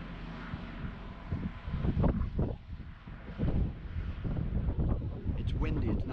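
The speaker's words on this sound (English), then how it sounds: "It's windy, it's not going to be an easy thing." Gusty wind buffets the microphone during repair work on an overhead electric power line, a steady rumbling roar with louder surges, while people talk over it.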